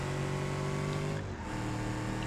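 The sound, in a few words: Subaru WRX STI engine accelerating in a racing video game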